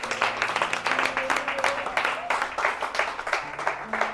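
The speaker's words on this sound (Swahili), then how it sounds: "Wakati anakuja mtafadhali mpigie Bwana Yesu makofi." A church congregation applauding for Jesus, a fairly faint, rhythmic clapping from a crowd, with voices sounding over it throughout.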